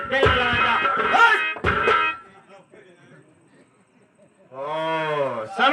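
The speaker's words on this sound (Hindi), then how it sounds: "जानवर सब भगे जा रहे हैं" Loose cattle in a Hindi nautanki folk-theatre performance give a long, low, drawn-out moo near the end, after loud theatrical voices talk and shout over the first seconds.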